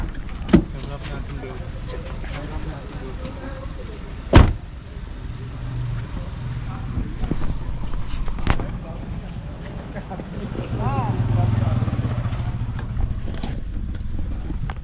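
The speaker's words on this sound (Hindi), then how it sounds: "अब इनको चढ़ाना है गाड़ी को। इन्होंने पहला गियर डाल लिया है" Car engine in first gear pulling up a slope during a beginner driving lesson: a low, steady engine drone that swells twice, with a sharp knock partway through and people talking over it.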